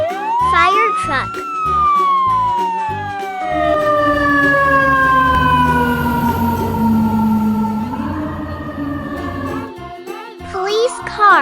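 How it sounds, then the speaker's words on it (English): A fire truck siren sweeps in a long, loud wail that slowly falls in pitch, heard close and continuous over a backing music beat. "Fire truck."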